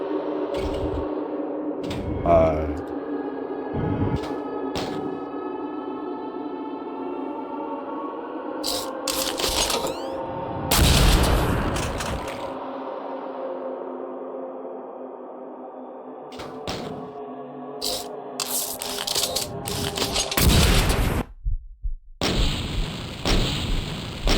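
Rocket explosions and blasts ring out in a first-person video game during repeated rocket jumps, heavy booming bursts scattered through a droning, tonal game soundscape, some loud and close, others shorter and sharper, with no talking.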